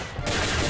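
A loud, dense burst of gunfire from the video game Combat Arms, very brief and close.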